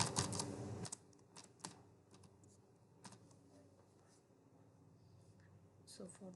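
Typing on a computer keyboard while coding a food ordering website in React, with scattered clicks and short bursts of keystrokes at a quiet, close level, plus a denser flurry at the start and end.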